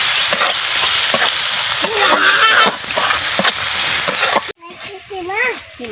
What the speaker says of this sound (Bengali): এখন ভালোভাবে মশলাটা কষিয়ে নিব